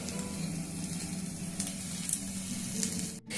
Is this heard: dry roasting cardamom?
yes